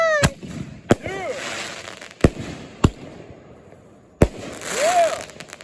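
Independence Day party fireworks go off nearby in four or five loud booming bursts, with crackling and whistling between them and voices talking and cheering.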